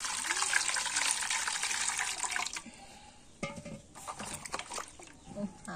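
Running water rinses a river aair fish being washed before cutting, a steady splashing flow that stops partway, followed by scattered wet handling sounds.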